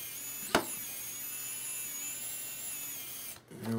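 A battery electric screwdriver runs with a steady high-pitched whine while driving screws into soft wood, a single sharp knock early on and the motor stopping near the end.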